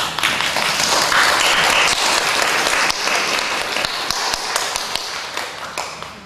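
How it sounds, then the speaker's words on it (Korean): A church congregation applauds, a full, sustained round of many hands clapping that carries on for about six seconds, with a few sharper claps near the end. "이제까지 박수 한번 주세요"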